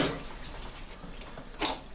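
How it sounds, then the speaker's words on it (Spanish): A washing machine draws in water through its inlet solenoid valve during a test, a soft continuous rushing hiss with a brief louder splash-like burst near the end, no talking. "y vemos que la máquina está cargando agua"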